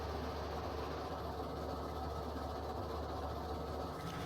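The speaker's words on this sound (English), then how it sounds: "Just two locomotives chugging away." Two steam locomotives in the railroad video game RailRoads Online, a steady low rumbling engine drone with a faint rhythmic mechanical pulse, continuous and even throughout, no voices.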